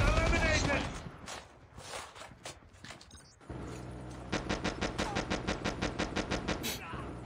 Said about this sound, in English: Friendly sentry gun deployed